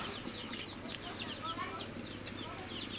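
Large broiler roosters clucking and calling together inside a hot farm shed, with a steady fan drone underneath and a continuous dense flock chatter.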